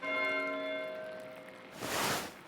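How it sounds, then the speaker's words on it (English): A church bell in the video game Pentiment rings once with a long, shimmering decay, followed by a soft rushing swell of noise as the tone fades. "Why is Matthew ringing the bell?"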